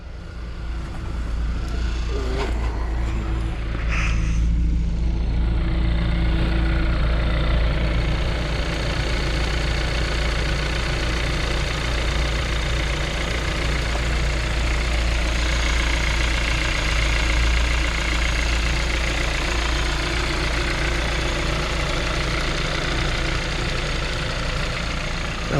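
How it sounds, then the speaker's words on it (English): Engine of a 2013 Kia Rio GDI four-door hatchback idling, a loud, steady low drone with a faint ticking clatter that runs unbroken, with a few brief handling noises near the start. "I'm gonna go let you listen to the motor."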